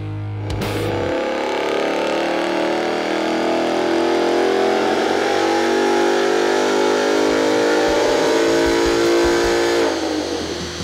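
A Ford Mustang fitted with an AWE exhaust revs hard on a dyno, climbing from a low rumble into a loud, sustained, rising engine roar that holds near its peak before easing off at the end.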